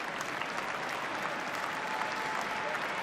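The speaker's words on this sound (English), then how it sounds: "And some applause there for Tim Glasby" Crowd applause ripples steadily through a rugby league stadium as a Melbourne Storm player comes on against Penrith, a dense, continuous wash of clapping and cheering at moderate distance with no break across the stretch.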